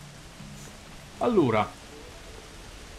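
Rain falling steadily on a darkened house in Kena: Bridge of Spirits, a soft continuous hiss in the background while someone speaks briefly over it.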